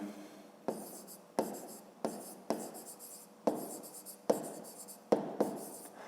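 A pen writes on paper in quick separate bursts, about eight close scratchy strokes with short pauses between them, quiet and alone.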